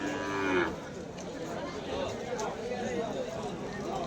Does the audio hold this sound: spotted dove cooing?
no